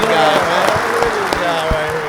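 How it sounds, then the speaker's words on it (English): A studio audience applauds a guest on a podcast set, a steady wash of clapping heard close and moderately loud, with some talk and shouting mixed over it. "Give him a round of applause."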